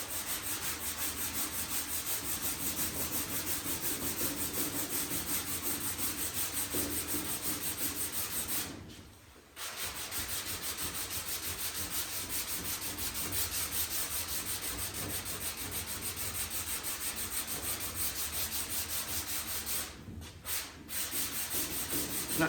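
Steady back-and-forth rubbing of a sanding block on the bodywork of a 1957 Chevy, continuous and close, with two brief pauses.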